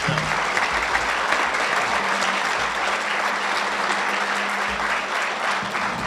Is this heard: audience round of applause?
yes